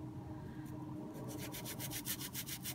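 Toothpaste scrubbed over the feed of a vintage Sheaffer Balance fountain pen makes a close rubbing sound that becomes a steady back-and-forth rasp of quick, rhythmic strokes, with no talking.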